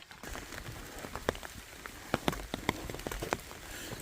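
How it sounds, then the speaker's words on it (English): Steady rain patters on a surface nearby, with scattered sharper drops tapping over a constant hiss. "I'm under my umbrella because it's raining."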